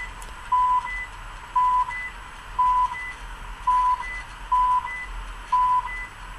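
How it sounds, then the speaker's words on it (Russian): Car GPS navigator sounding a speed warning on a highway drive: six short, evenly spaced beeps about a second apart over a steady low road rumble inside the cabin. "навигатор заставляет меня снизить скорость. Давит на нервы своим пиком."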